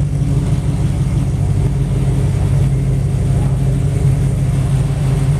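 A 1932 Ford roadster with Brookville steel body pulls away, its engine a loud, steady low rumble close by that holds throughout without pauses.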